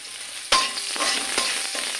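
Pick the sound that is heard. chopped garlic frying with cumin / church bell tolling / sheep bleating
chopped garlic frying with cumin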